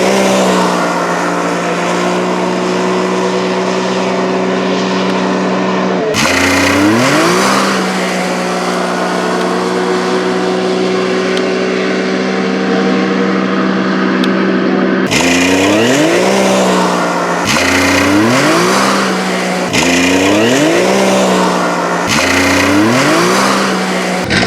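A BMW X3 in four-wheel drive on a KMS tune accelerates repeatedly from a stop. Loud, close engine runs climb steeply through quick upshifts, with several separate pulls in sequence and no talking.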